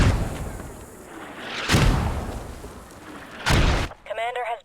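Mortar fire in a multiplayer war video game: two heavy booming blasts a couple of seconds apart over steady battlefield rumble, with a brief voice at the end.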